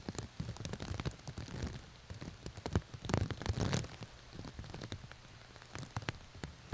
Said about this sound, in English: This looks like some pretty heavy rain. Oh yeah, these are fat raindrops.